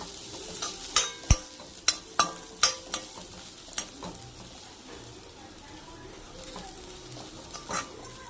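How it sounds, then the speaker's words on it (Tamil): Ground paste being stirred into sautéed onions in a pan while making beetroot poriyal: a run of sharp spoon knocks against the pan over a steady sizzle, then softer stirring and frying continuing. "மிக்ஸ் பண்ணி நல்லா கிளறி விட்டுருங்க."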